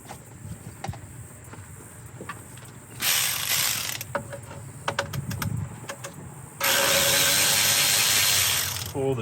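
A ratchet backs out the 10mm bolts on the cooling fans of a 2010-2014 Subaru Outback during a radiator replacement, with quick clicking bursts, scattered clinks and handling noises, close by and with no talk.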